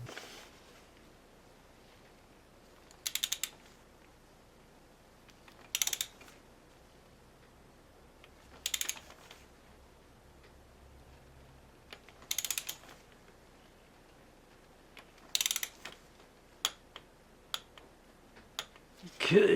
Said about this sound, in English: Torque wrench set at 8 pounds.